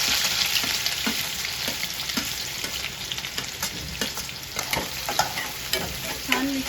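Finely chopped onion hitting a pan of garlic that is already roasting in oil, a steady crackling sizzle with scattered pops and the scrape of stirring, fairly close and with no one talking over it.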